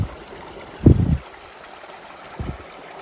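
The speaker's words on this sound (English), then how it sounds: "Definitely the mountain stream of the day." Steady rushing water from a mountain stream on the Appalachian Trail tumbling over rocks, with a couple of soft low thumps nearby.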